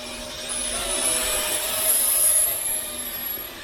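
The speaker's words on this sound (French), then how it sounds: "je démarre les moteurs en actionnant la manette, je le fais décoller" A steady high-pitched whine of small electric motors rises slightly and holds, a LOOLINN X27 toy drone spinning up and lifting off nearby, with no talking.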